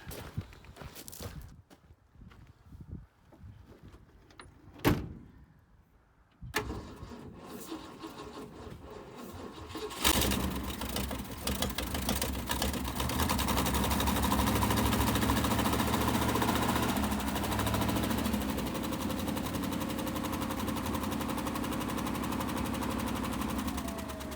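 An old boneyard car engine running on gas mixed with two-cycle oil. Clicks and knocks come first, then it cold starts and settles into a steady, fairly loud idle that runs on to the end.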